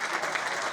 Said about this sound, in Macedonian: Ја би сакал да искористим можност со еден аплауз и за Насер Беадини